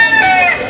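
A silkie chicken crowing close and loud in a single short burst of a rooster's call, at an animal community gathering.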